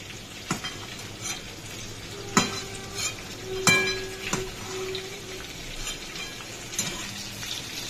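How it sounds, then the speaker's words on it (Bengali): Pointed gourd (parwal) pieces frying in hot oil, with a steady soft sizzle and occasional sharp clinks and scrapes of a spatula stirring the pan. "এবারে পটলটাকে বেশ লাল করে ভেজে নেব"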